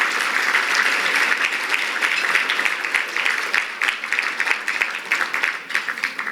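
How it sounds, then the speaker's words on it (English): A gala audience applauds steadily, a dense wash of many hands clapping that thins into scattered claps toward the end. "can we give another round of applause for Professor Beydoun, please?"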